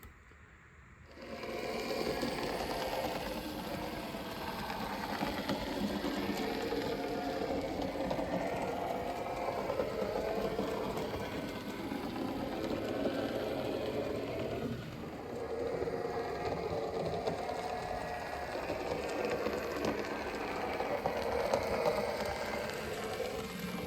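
A Liliput 009 / HOe gauge model diesel locomotive runs with a steady mechanical whirr and faint ratcheting buzz, starting after a moment of quiet and holding an even, close, moderately quiet drone throughout.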